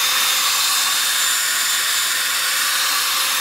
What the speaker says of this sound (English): it's the dry sand 500 grit. We're just removing